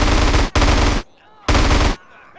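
Gunfire in the video game GTA San Andreas: loud, close bursts of automatic fire, two back-to-back volleys, a short pause, then a third sustained burst, with quiet gaps between.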